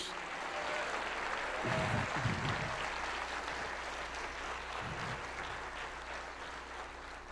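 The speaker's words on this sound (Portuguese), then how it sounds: "Você pode dar uma salva de palmas para Jesus" Church congregation applause during a sermon, a steady sustained wash of many hands clapping across the whole stretch, moderately loud and even, with no talk over it.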